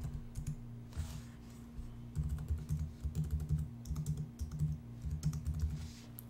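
Computer keyboard typing account and credit card details, steady close clatter of keystrokes in irregular runs with short pauses, over a faint constant hum.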